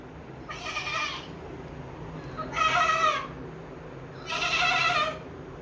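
Someone mimics a goat's bleating in three wavering, nasal calls spaced about two seconds apart, moderately loud over a steady background hiss.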